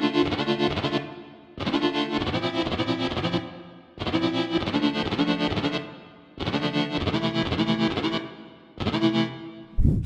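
Thick, distorted synth drop chords strike in four sustained blasts, each held about two seconds with short gaps between, loud and alone.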